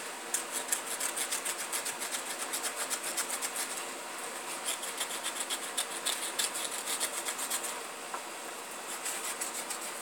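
A hand scraper works steadily along a yew English longbow stave, close and clear. It makes a continuous rhythmic rasping with quick repeated strokes and no voices.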